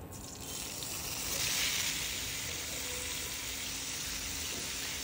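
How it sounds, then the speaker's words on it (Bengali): Pieces of kakrol (spiny gourd) frying in hot oil, with turmeric added, give a soft, steady sizzle that swells slightly and then settles, faint and continuous, with no voices. "তো কাঁকরোলগুলোকে ভালো করে এখন ভেজে"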